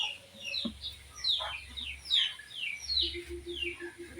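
Pet chickens cluck and call repeatedly at close range while being fed outdoors, with several overlapping hen and rooster-like calls over a low background hum.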